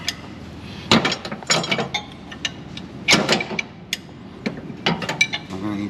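Wrenches loosening bolts on a garage door spring adjuster during a generator-to-alternator conversion, giving several clanking, ratcheting metallic bursts in uneven clusters, close up and moderately loud, with no talking.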